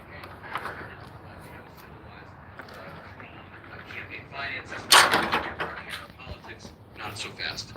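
A door slamming somewhere in a room, one sharp thud standing out in the middle, with a few quieter knocks and bumps around it under continuous talking.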